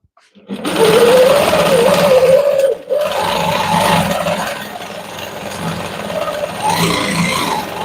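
A quilting machine stitches an outline on a quilt, its motor whirring steadily and close, shifting pitch slightly as it runs, with a brief pause midway.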